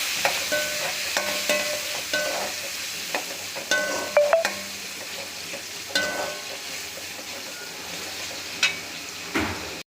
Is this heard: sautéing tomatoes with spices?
yes